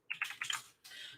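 Rapid bursts of typing on a computer keyboard, close and clear, a quick flurry of clicks followed by a steadier run of keystrokes, with no talking.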